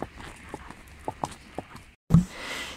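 Hooves of a battery-powered toy pony clip-clop in a light, uneven patter, faint and close, then stop briefly before a louder thump.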